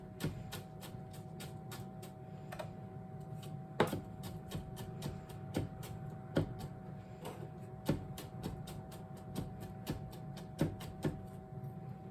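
A kitchen knife chops food on a cutting board while a tortellini Alfredo bake is prepared, giving a steady series of sharp, close taps over a low background hum, with no talking.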